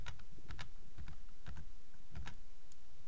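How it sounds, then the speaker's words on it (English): Close computer keyboard taps while editing CSS code, several light, separate key clicks at an irregular pace with quiet background in between. "Click on this code here and then press tab"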